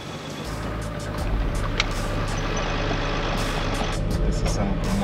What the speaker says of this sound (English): This is some of the most intense driving I've ever done.